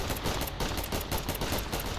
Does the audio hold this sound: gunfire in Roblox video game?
yes